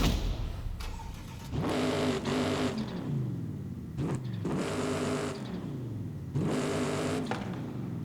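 A tuned 2018 TVR Griffith engine cycles through three loud, close revving bursts, each rising and falling over a couple of seconds, with idle between them and a sharp start-up crackle near the beginning.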